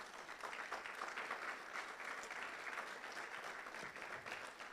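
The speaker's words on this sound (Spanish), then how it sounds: "Si usted lo cree, déle ese fuerte aplauso al Señor." Congregation clapping hard for the Lord during a May 31, 2019 church vigil, a steady, even wave of applause lasting several seconds, recorded a little distantly and alone without speech.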